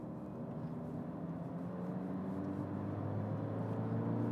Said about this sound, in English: the engine note slash exhaust note that you get inside the car is really rather muted